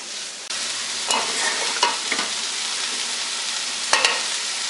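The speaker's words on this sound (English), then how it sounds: "while the onions are frying in the bacon there" Onions fry in bacon fat in a pan with a steady close sizzle, broken by a few scraping stirs of a utensil, no voices.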